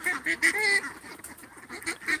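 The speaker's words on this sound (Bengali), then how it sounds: "এখানে মূলত ছয়শো পিস রানিং ডিমের হাঁস আছে" A flock of runner egg-laying ducks, about six hundred birds, quacks and honks at a hatchery in a loud, overlapping chorus of close, nasal calls that rise and fall in bursts.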